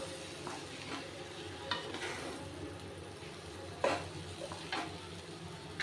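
Ghee sizzles steadily in a pan of Gulpavate, the Maharashtrian sweet, as a spoon stirs, with several sharp scraping strokes against the pan over a continuous close fry hiss.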